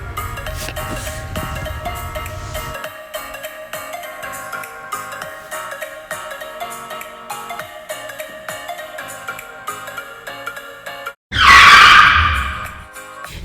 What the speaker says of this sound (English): Due to her divided attention, Linda unexpectedly crashes into another car's bumper.